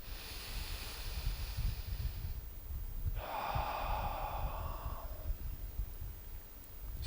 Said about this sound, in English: We're going to deepen our breath, really expanding into the belly.